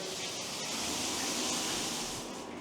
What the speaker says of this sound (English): full rainfall shower head with good pressure